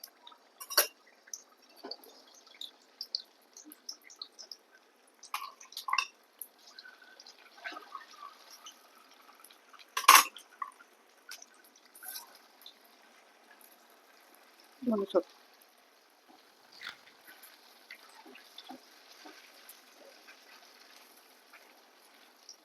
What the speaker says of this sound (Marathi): तेल आपलं आता तापलेले तेलामध्ये वडा आपण सोडून देऊया